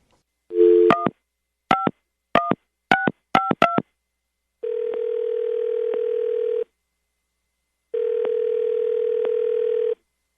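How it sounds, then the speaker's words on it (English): A telephone being dialed for a radio call, a quick series of keypad tones followed by two long, steady ringback tones separated by silence, clear and close. "All right, I'm going to dial him right now."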